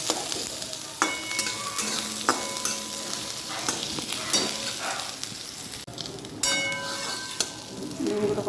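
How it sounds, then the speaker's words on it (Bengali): Onions, chillies and garlic sizzle steadily in a hot pan while a utensil scrapes and clinks against it every few seconds, close and clear. "পেঁয়াজটা একটু ভাজা হবে তখন ডিমটা দেবো"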